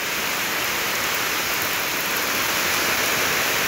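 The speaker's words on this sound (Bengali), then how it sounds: "বৃষ্টি পড়তেছে" Rain falls steadily outside a flooded home, a broad, even wash of hiss with no break, close and fairly loud, alone without voices.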